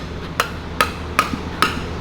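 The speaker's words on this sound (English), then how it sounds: "Look at Matt getting the head bolt out of there." Four evenly spaced sharp metallic strikes from a tool working a cylinder head bolt loose on a 2002 cylinder head from a destroyed 2000hp small-block Ford engine, close and fairly loud over a low steady background hum.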